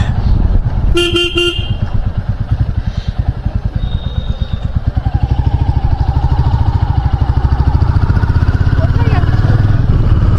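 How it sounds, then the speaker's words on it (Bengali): Royal Enfield Classic 350 Reborn in Stealth Black on its first ride: a loud, close engine thumps with a steady rapid pulse, a horn toots briefly near the start, and traffic noise carries on around it. "my Royal Enfield Classic 350 Reborn"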